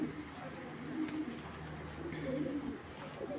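Racing club pigeons coo in a low, steady, overlapping murmur that carries on throughout, fairly close and soft, with no one speaking.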